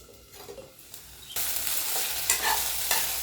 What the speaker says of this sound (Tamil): இந்த கத்திரிக்காய் எண்ணெயிலே நல்லா வதங்கி வரணும்.